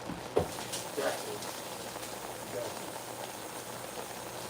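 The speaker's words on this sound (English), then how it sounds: "I'm going to go ahead and rinse them off." Small potatoes rinsed under running water for a simple beef stew, a steady close wash of water spattering over them with a few sharper splashes near the start.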